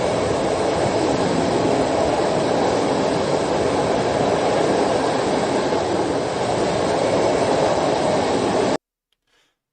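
A freight train carrying PT-91 Twardy tanks rumbles past with a loud, continuous roar and rattle of wagons, holding steady for several seconds and then cutting off abruptly.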